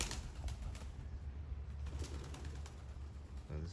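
Young racing pigeons coo softly in a loft, low throaty calls repeating under faint rustling and occasional wing movement, quiet and close.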